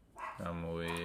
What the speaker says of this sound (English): Sorry about my dog barking, guys.